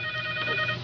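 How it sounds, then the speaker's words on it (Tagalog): A mobile phone rings with a steady electronic tone in a brief, continuous burst over a low room hum, with no talking. "Te cellphone yun, nanang."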